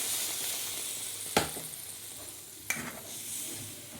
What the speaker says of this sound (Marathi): चांगलं तेल सुटेपर्यंत परतून घेतलं व त्याच्यामध्ये पाणी टाकलं आणि आता हे पाणी उकळू द्यायचं आहे